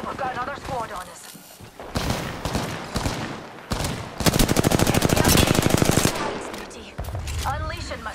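Repeated rapid automatic gunfire in the video game Apex Legends, loud close bursts with a long sustained volley in the middle, and a voice speaking between the bursts.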